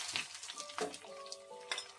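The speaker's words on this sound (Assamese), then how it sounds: "পিঁয়াজখিনিও মই ৰঙচুৱাকৈ ভাজি ল'ম।" Onions fry in hot oil for a chicken curry with skunk vine leaves, crackling and sizzling softly up close in short bursts with light stirring, no voices.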